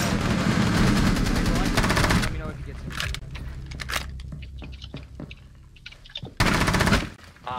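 Automatic gunfire in the tactical shooter Rainbow Six Siege, loud rapid bursts at the start and again near the end, with sparse single shots and impacts between and players talking over the action.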